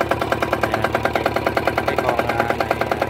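Robin 60 mini tiller with a diesel engine running close by, a loud rapid steady chugging putter with even rhythmic pulses and no talk.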